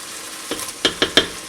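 Beef stew with garlic, onions and peppers sizzles steadily in oil in an uncovered pan, a close frying hiss with a few sharp stirring scrapes and clicks near the end.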